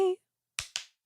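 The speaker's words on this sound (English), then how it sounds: "I'll just give it like a little clap at the end" Two sharp hand claps in quick succession, close and crisp, following a brief sung note at the start.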